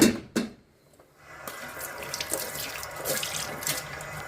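Water runs from a tap into a kitchen sink, starting after a brief splash and a moment of quiet, then a steady close hiss and splatter that continues to the end.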